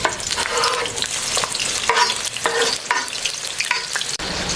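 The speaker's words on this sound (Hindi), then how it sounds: "तो ऑयल हमारा गर्म हो चुका है, इसके अंदर हम ये प्याज शामिल कर लेते हैं।" Sliced onions sizzle steadily in about a cup of hot oil for chicken kofta, with repeated bursts of stirring and scraping over a continuous close frying hiss.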